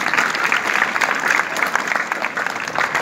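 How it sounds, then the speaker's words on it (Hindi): An audience at a Jawahar Navodaya Vidyalaya school annual day gives performers sustained, steady applause, a continuous bright rattle of many hands clapping at moderate volume. "सब लोग ज़ोरदार तालियां से अभिनंदन करें उन लोगों का जिन्होंने यहाँ पर परफॉर्म किया।"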